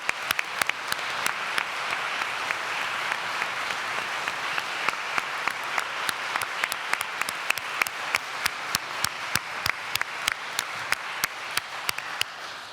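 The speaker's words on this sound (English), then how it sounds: "Let's give another round of applause to them." Sustained applause from a large audience at a University of Greenwich graduation ceremony, a dense steady wash of many hands clapping with sharper individual claps standing out, continuing evenly throughout with no talk.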